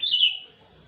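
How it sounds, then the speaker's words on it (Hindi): Bulbul calling from inside a dense tree: a bright, clear chirping phrase up close, loud at first and then tailing off into quiet surroundings. "बुलबुल बोल रही"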